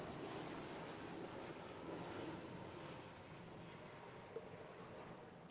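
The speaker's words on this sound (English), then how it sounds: "here's a plane. I know you guys missed that, having the planes fly over during my lives" A distant propeller airplane passes overhead, heard from inside a garage as a broad steady drone that slowly fades, with no one speaking.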